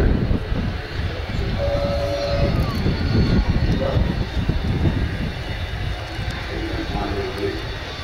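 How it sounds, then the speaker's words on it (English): Avro Vulcan bomber rolling out after landing at an air show, a loud broad engine roar that stays steady and close throughout, with a person speaking over it. "The Vulcan has landed"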